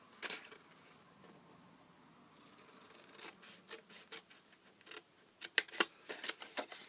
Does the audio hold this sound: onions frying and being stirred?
no